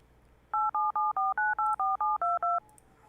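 Ten DTMF keypad tones sound in quick, even succession as a phone number is dialed to reach a scammer, each beep short and clean over a quiet background.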